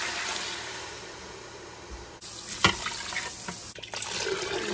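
Water pouring into a cooking pot, a steady splashing gush that begins partway through and continues fairly close, with no talking.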